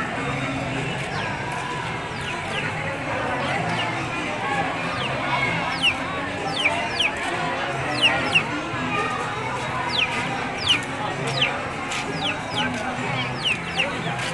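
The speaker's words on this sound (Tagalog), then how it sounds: "manok." Chickens clucking and chirping repeatedly in the background amid a busy outdoor murmur at an agri-tourism trade fair at Polillo Sports Complex, with scattered short calls rising above the ambient noise.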